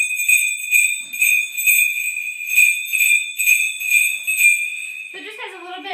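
A number four size New England bell rings in quick, steady shakes, bright metallic peals repeating about twice a second up close before fading out at the end.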